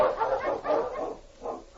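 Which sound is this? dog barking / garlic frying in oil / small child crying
dog barking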